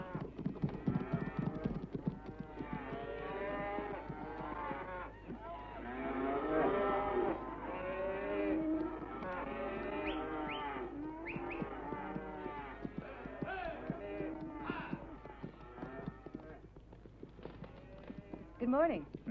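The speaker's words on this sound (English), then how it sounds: "There's a big herd of cattle here." A big herd of cattle lowing and mooing continuously in overlapping calls, with hoof clatter mixed in, moderately loud throughout in an outdoor Western scene.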